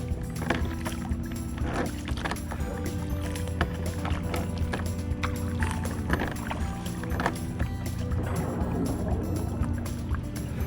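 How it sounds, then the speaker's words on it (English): Gentle water lapping against a kayak on a calm lake in a quiet wooded cove, soft irregular splashes and drips close by over a faint background. "you have the quiet of the water lapping"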